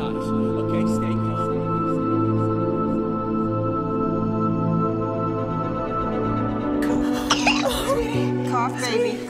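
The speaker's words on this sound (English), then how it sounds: "She's coughing." A young girl coughs repeatedly in a tense dinner scene from the film The Case for Christ, with a worried adult speaking over her throughout and a sharper burst of sound near the end.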